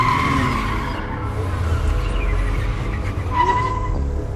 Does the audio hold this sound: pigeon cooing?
no